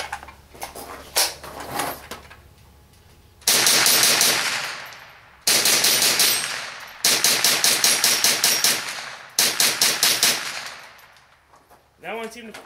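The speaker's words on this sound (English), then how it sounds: "What I'm using today is just the standard Federal." A GSG AK-47 rifle made by German Sport Guns fires standard Federal ammunition: several loud, close strings of rapid shots come in bursts, separated by short quiet gaps.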